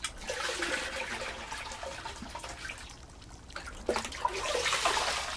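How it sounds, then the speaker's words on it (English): Salted fish being washed by hand in water, a continuous sloshing and splashing with trickling and dripping, close and fairly loud, swelling again near the end. "Sangoro's wife, Chikano, washes the fish salted in spring."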